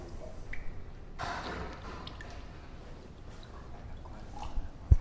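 Water overflows from the gravity-fed water tank of an Areton CO2 fractional laser during a routine water change: quiet trickling and soft drips, with a brief gush of splashing and a closing knock.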